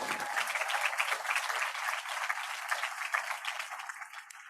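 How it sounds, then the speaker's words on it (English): Dense applause from the audience at a closing ceremony, given for the students' parents, starts abruptly, stays loud and even, then quickly cuts off at the end. "Let's give our parents a round of applause."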